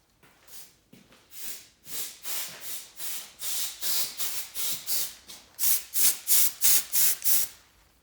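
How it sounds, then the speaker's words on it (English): A small can of compressed air fires a rapid string of short hissing spray bursts, about a dozen in a row, growing louder and sharper toward the end while clearing a Honda GX200 clone engine part. "Let me get some compressed air. I think I got a small can of compressed air."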